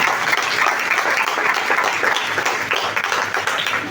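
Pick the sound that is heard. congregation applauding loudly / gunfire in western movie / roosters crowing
congregation applauding loudly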